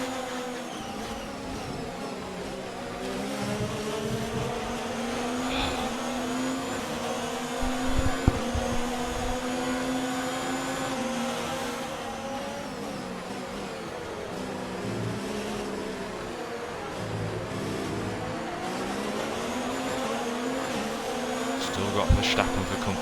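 Simulated Alfa Romeo Formula 1 engine in F1 2019 on a hot lap at the Canadian circuit, a steady high-pitched whine that rises and falls through gear changes, loud and continuous with no speech.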